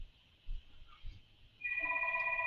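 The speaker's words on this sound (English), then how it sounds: "Oh, sorry, my phone is ringing." A phone rings indoors at a card-making and stamping session, its steady electronic ringtone starting partway through and sounding alone and fairly loud after a few low thumps.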